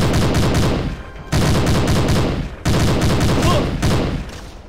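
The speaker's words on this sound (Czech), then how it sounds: "Mě někdo střílí." Rapid bursts of gunfire in the video game Hidden & Dangerous 2, loud and close, come in three long rattling volleys separated by brief gaps.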